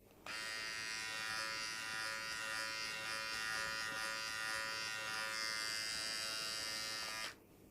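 A kensen electric body trimmer, an adjustable USB-C groomer, buzzing steadily and close while trimming hair, a continuous high whine lasting about seven seconds and then switching off.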